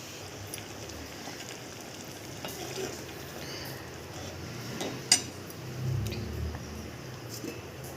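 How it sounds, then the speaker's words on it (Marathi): Dal palak, lentils cooked with spinach, simmers and bubbles in a pan, giving a steady soft sizzling burble with a few small clinks, close by and alone with no talking. "उकळी आल्यावरती आपल्याला एक मिनिट शिजू द्यायचं फार वेळ नाही शिजू द्यायचं"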